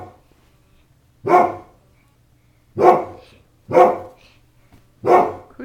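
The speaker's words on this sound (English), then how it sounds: "Who's doing all the barking?" A dog named Stan barks four separate times, loud and close, with long quiet gaps between the barks and no talking.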